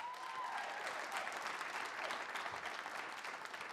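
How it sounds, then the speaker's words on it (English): A room full of people claps steadily, a dense, even applause that carries on without pause, at a hall of fame ceremony. "Please, another round of applause for Jerry Chomyn."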